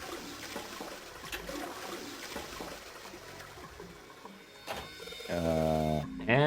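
A toilet flushes with a rising gurgle of rushing water near the end, following a string pull in the Zero Escape game; low ambient noise precedes it.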